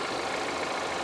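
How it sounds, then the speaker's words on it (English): A Kia car engine idles steadily with a smooth, even hum, close by and unchanging over a brief moment. "Underneath the hood, engine sounds good. It idles smoothly."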